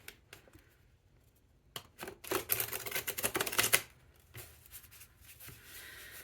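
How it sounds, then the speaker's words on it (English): Riffle shuffle of a tarot card deck: a few soft handling taps, then a dense, rapid fluttering burst of cards for about two seconds, close and moderately loud, followed by quieter shuffling taps. "Let me get some kind of space so that I can do a nice riffle shuffle and we can get it all shuffled for you."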